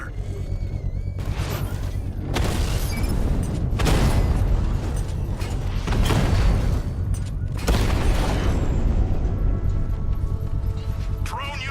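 A Rattler tank in Batman: Arkham Knight is blown apart, with several deep booming blasts and rumbling, crackling debris rolling through the mix under intermittent talk.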